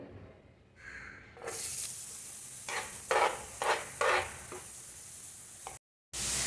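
Onion stirred and roasted in oil in a pan for Malvani-style prawn masala gives a steady sizzle broken by several scraping stirs, fairly close, before a brief silent gap.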